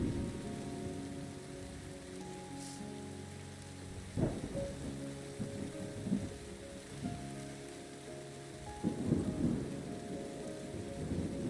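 Steady rain patters beneath rolling rumbles of thunder in the video game Terra Nil, with a couple of louder cracks standing out over a low, continuous storm bed and no talking.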